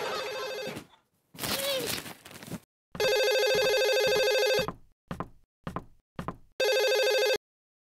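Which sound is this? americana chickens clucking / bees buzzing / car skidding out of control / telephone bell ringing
telephone bell ringing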